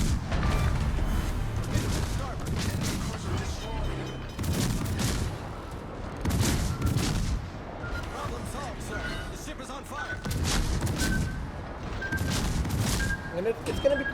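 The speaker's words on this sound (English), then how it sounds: "those were the Littorio shots coming in" Incoming Littorio battleship shells in a naval video game, landing as heavy booming impacts and gunfire in repeated bursts every couple of seconds over a constant rumbling battle din.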